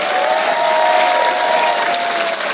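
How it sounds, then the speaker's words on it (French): Steady, dense applause from a large audience, loud and sustained throughout with no pause. "je vous demande de faire un tonnerre d'applaudissements"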